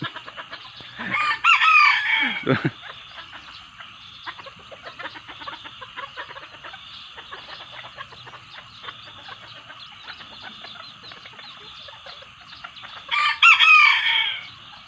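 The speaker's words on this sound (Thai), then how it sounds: "มีไก่ตัวเมียตัวหนึ่งกระตากนะครับ ไก่ผู้ก็ตามมามาเต็มเลยฮะ" Bantam chickens in a coop: a hen keeps up a steady cackling while roosters crow loudly near the start and again at the end, with clucking throughout.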